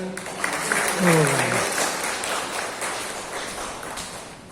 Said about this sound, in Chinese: 再次掌声。